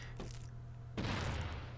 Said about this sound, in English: gunfire is coming from those bases as well